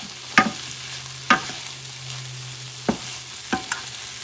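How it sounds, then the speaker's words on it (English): Spanish rice and sardines being stirred in a frying pan, four or five distinct scraping knocks of a utensil against the pan over a low steady hum, close and fairly loud, no speech. "And I'm going to mix this baby together."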